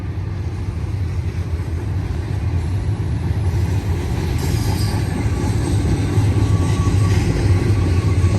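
A BNSF intermodal freight train of stacked international containers rolls past close by at a rural trackside spot, a steady loud rumble of wheels and cars for the whole stretch, with faint squeal creeping in toward the end.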